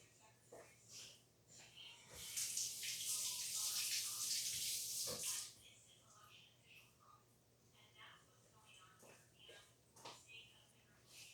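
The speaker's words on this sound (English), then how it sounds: "let me go rinse this one" A kitchen tap runs in a strong rushing stream for a few seconds while a potato is rinsed, then shuts off, leaving quiet handling noises, soft clicks and occasional speech.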